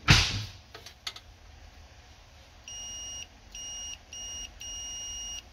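A multimeter gives several steady continuity beeps while its probes touch the reverse light switch wires on a 1994 Honda Accord during a 5-speed swap. The tones come in four sustained bursts with short gaps, clear and close, without talk.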